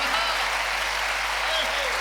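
A dense, continuous wash of audience applause fills a Hindi comedy poetry show, loud and steady throughout without a break.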